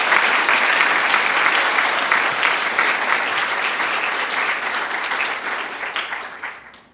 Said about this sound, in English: So can you please give them a round of applause?